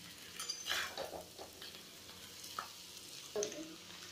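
Potatoes fry in a pan over a medium flame for an Indian aloo fry, a faint, close sizzle broken by brief stirring scrapes and crackles, with no talking.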